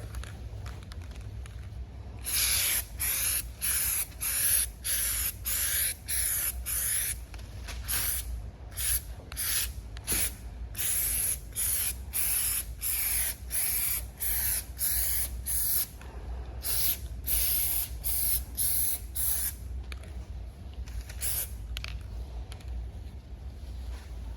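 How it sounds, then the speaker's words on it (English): Adhesive is sprayed in an even coat while laying down Squatch pads, heard as rapid repeated hissing bursts from the spray gun, close and loud, with brief pauses between passes. "Spray a nice even coat, let this stuff sit about 4 minutes"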